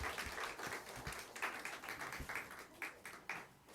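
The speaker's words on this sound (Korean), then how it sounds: "우리 성도들 박수 한번 쳐주실까요?" A church congregation applauds during an Easter Sunday morning service, a moderate scattered clapping with distinct individual claps, fairly even throughout.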